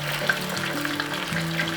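Fish caught from an irrigation ditch frying in a pan, a steady close sizzle with light crackles and spatters running throughout, with no one talking.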